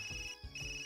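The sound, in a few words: phone ringtone in the video game Persona 4 Arena Ultimax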